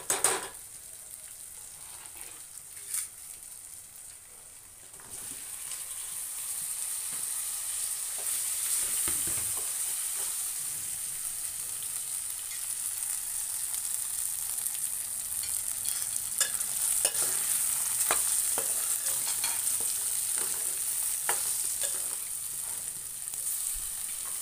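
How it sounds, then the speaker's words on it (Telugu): Boiled taro root stirred and fried in a pan for a taro tamarind stew, with a steady sizzle and scraping stirs against the pan throughout and no talk. "ఇప్పుడు మనం ముందుగా చామదుంపల్ని ఉడకబెట్టి తీసుకున్న వాటిని ఇందులో"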